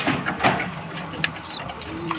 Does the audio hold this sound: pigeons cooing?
yes